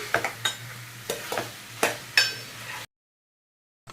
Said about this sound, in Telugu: కట్ చేసుకున్న బెండకాయలు అయితే వేసేసుకొని మిక్స్ చేసేసుకున్నాం